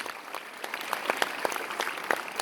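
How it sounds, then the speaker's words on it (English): An audience applauds a judge at a girls' Shakespeare competition final, giving steady, moderate clapping with scattered sharper claps throughout. "A round of applause, ladies and gentlemen, for our first judge, Dr. Madhubhashini Ratnayake."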